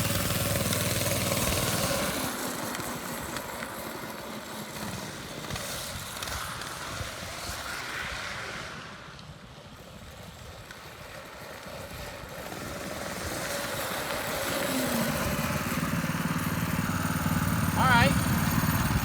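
A small engine on a home-built drift trike fitted with a drum brake runs at a steady low rumble during a hard brake test. It dips and fades midway before picking back up, with someone speaking briefly.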